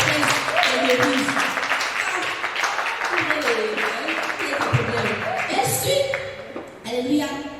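Church congregation applauding and cheering for the evangelist: a dense, sustained patter of many clapping hands, with voices calling out over it throughout.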